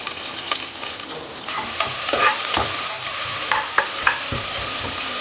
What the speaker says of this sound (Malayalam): മസാല മൂത്ത് തുടങ്ങി നമുക്ക് ഉള്ളി അരിഞ്ഞതിടാം